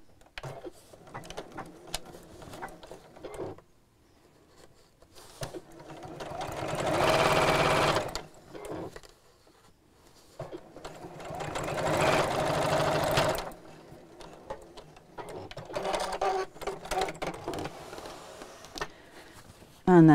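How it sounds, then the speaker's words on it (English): Sewing machine stitching straight across the base and side seam of a round bamboo-handled fabric bag, two sustained whirring runs of a few seconds each, with quieter handling noises between them. "just pull this open so that the side seam sits across"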